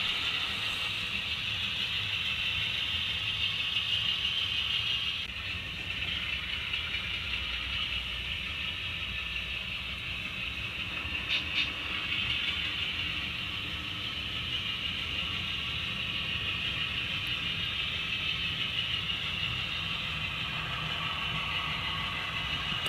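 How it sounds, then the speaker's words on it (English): A model railroad train rounds a bend at the north end of Oakridge on a layout, giving a steady, continuous whirring hum with no talking. "Here our train is rounding the bend at the north end of Oakridge"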